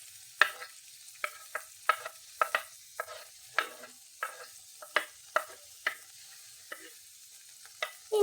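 A spoon stirs chicken soup vegetables, sliced carrot, beans and garlic, in a pot, with a steady run of separate scraping knocks against the pot over a quiet background.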